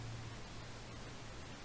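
Pink noise plays as a continuous, even hiss that sounds softer and darker than white noise, with its energy tilted toward the lows, steady and uninterrupted, with no voices.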